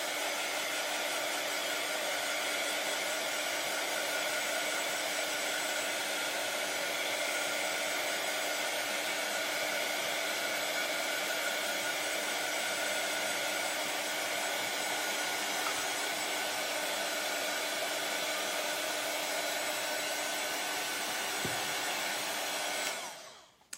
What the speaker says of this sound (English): This is called an embossing heat tool.